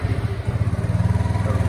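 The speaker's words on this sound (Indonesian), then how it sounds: "saya sambil hidupin mesinnya." A Kymco Like 150i scooter engine idling close by, a fast, throbbing low putter with a steady pulsing rhythm and faint mechanical clatter, heard briefly without talk.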